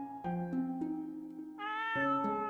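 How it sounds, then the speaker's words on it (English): Cat meowing in the video game Rakuen, a few clear, tonal meows in steady succession with rising and falling pitch, fairly close and alone without any talk. "There's a cat here."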